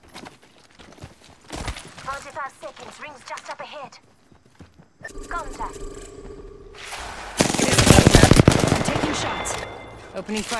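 Gunfire in Apex Legends, with bursts of automatic shots in a video game, loudest in a dense rapid volley toward the end, mixed with game sound effects and voices speaking.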